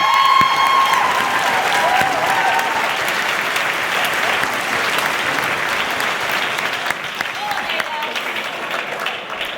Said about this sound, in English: put your hands together for Haider Ali.